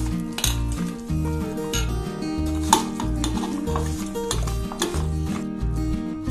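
A spoon mixes chicken pieces for biryani with yogurt and masala in a bowl, making wet, squelching, clinking strokes in a steady repeating rhythm, close up and moderately loud with no talking.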